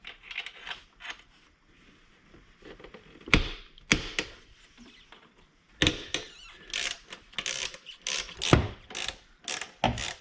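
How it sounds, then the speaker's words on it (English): Wrench loosening four 12mm bolts on a Toyota 4Runner or FJ Cruiser throttle body: close, sharp metallic clicks and ratcheting bursts, sparse at first and then a quick run of repeated clicks, with no talking. "I'm just going to use a crescent wrench here to loosen these 4 12mm bolts"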